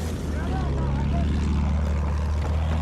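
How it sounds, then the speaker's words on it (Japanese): An enemy bomber aircraft flying overhead in a war video game, a loud steady propeller drone filling the whole moment. "そこだ敵の爆撃機"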